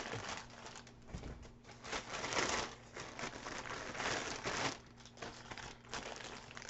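Plastic bag packaging around mail-order CDs crinkles and rustles continuously as it is pulled open, close and fairly quiet, with no speech over it.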